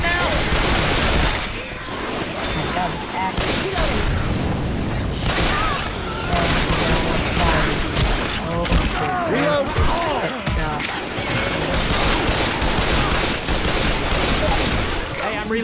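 Left 4 Dead 2 gunfire, dense bursts of rapid shots and automatic fire with heavy impacts, loud and continuous, mixed with shouting voices.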